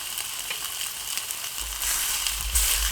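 A pound of country-style pork sausage sizzles steadily in a Lodge cast iron skillet while being broken apart, with soft scraping and crackle that grows louder and fuller partway through.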